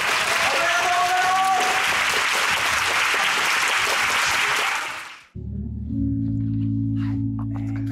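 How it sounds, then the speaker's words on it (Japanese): Audience applause at a birthday event: dense, sustained clapping from a crowd fills the first five seconds, then fades as music with a steady low tone takes over. "笹森ひろきさんに大きな拍手を。"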